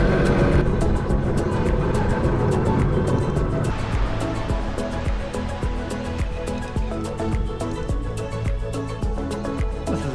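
Waves wash onto a small beach at Hooks Bay on Waiheke Island, a continuous surf roar with softer breaking swells and light wind, no voices.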